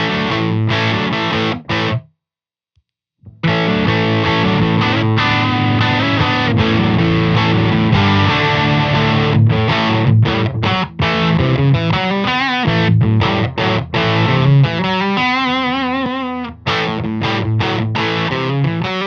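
Distorted electric guitar played through an Apollo unit with EQ cut and boost, loud chugging riffs and sustained chords with one short pause near the start.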